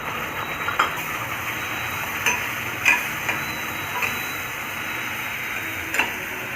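Ground tomato, ginger and garlic paste sautéing in a pan, a steady soft sizzle with occasional light clicks of a spoon against the pan.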